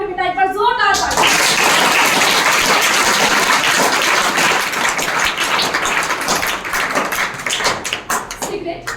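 Loud, dense audience applause fills the hall for about eight seconds at a district anti-drug poster-making competition event, with voices mixed in and the clapping thinning slightly toward the end.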